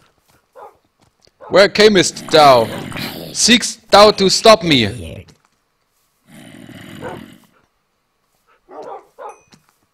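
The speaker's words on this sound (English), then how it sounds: "I have an army of dogs now." Tamed dogs in the Minecraft video game bark in short clustered bursts amid loud spoken lines, then fade to a few scattered yips.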